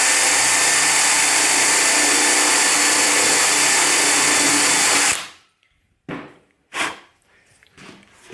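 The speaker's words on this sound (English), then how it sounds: "now we've got a perfectly drilled hole" A power drill bores a clean hole with no blowout, a loud, steady whir for about five seconds that cuts off abruptly, followed by a few light knocks and clicks.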